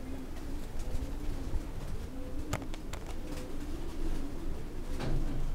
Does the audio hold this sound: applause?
no